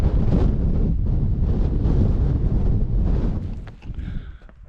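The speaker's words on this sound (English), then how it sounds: "very, very windy." Strong, gusty wind on exposed hilltops buffets the microphone in loud, continuous roaring blasts. The gusts ease toward the end, and there is no talk.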